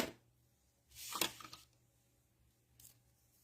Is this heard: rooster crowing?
no